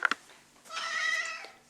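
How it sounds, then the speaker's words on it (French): A cat gives a single drawn-out meow, close and fairly quiet, preceded by a couple of small clicks. "elle arrête pas de miauler"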